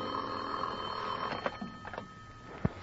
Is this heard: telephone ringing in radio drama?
yes